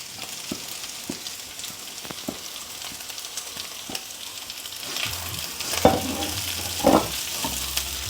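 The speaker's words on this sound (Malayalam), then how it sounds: "ഇനിയിപ്പോൾ മുട്ട ആയതും പിന്നെ നേരത്തെ നമ്മൾ സോട്ട് ചെയ്ത് വെച്ചിരുന്ന പച്ചക്കറിയും കൂടെ ഒരുമിച്ച് ആ സെയിം പാനിലേക്ക് തന്നെ ഇടുവാണേ." Egg and previously sautéed vegetables fry together in a pan for fried rice, a steady sizzle with occasional scraping stir clatters growing more frequent toward the end, heard alone without talk.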